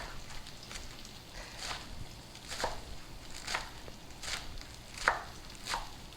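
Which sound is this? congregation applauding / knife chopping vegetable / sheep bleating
knife chopping vegetable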